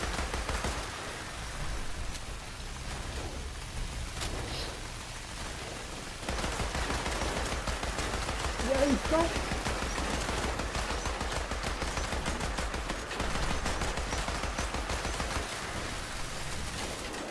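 Sustained gunfire and machine-gun bursts from the video game Fallout 76, a loud, dense rattle that drops back briefly and then resumes steadily with no talking.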